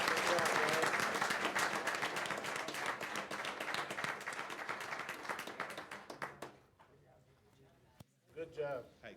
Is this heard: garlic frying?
no